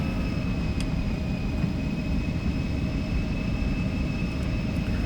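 Embraer E-Jet engines spooled up to takeoff thrust in the X-Plane flight simulator produce a steady, loud, dense roar with a constant whine running through it, unchanging throughout and without any voices.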